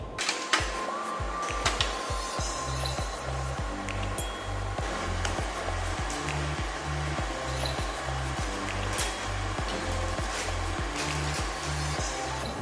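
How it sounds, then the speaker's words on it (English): An electric stand mixer beats chocolate sponge cake batter with a steady motor whir and a regular rhythmic thumping from the beater, close and continuous. "So I'm going now to put it back in the machine and start to mix for another 3 to 4 minutes."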